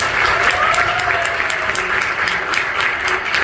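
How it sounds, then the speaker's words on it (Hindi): Steady applause from a live audience cheering the performers at a storytelling event, a dense continuous patter of clapping hands that holds at an even, fairly loud level throughout. "एक बार इन सबके लिए ताली बजाएं, जितने भी कलाकार हैं।"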